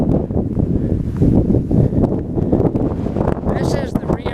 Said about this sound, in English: It's probably too windy to hear, but I'll talk a little while.